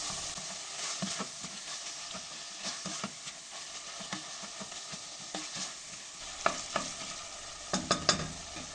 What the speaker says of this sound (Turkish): Salçaları ilave ediyorum hemen. Tekrar kavurmaya devam ediyorum.